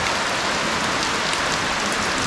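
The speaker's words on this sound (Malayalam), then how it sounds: "മഴ തകർത്തുകൊണ്ടിരിക്കുകയാണ്" Heavy rain pours down near a large granite quarry pool on Kodassery Hill, a dense, loud and steady hiss of drops striking surfaces, with no speech.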